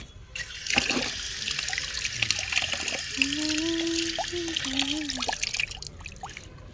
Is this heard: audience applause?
no